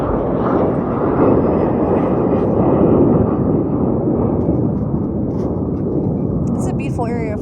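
Broadband roaring rumble of an airplane flying low overhead near an airport, loud and steady throughout, fading slightly toward the end.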